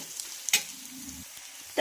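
Egg and spinach bhurji with salt and chili powder is stirred in a pan. Faint sizzling sits under a couple of brief scraping clinks from the spatula.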